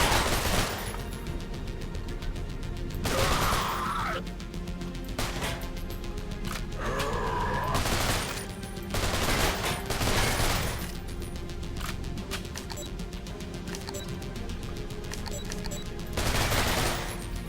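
MP5 submachine gun fire in the video game Garage Bad Trip: several separate loud bursts of rapid shots, spaced seconds apart, over a droning game background.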